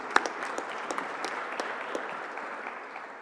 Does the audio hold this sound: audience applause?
yes